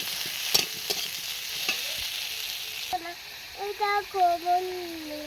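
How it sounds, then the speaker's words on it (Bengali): Fried potatoes are added to spiced oil and stirred, giving a soft sizzle with scraping stir strokes; after a few seconds a voice speaks over the cooking sounds. "এবার আমি দিয়ে দেবো ভেজে রাখা আলু। আলুটা দিয়ে একটু ভালো করে কষিয়ে নেব।"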